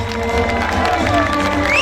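A crowd at an outdoor district celebration gathering in Üsküp claps and cheers in a continuous loud wash, with voices mixed in.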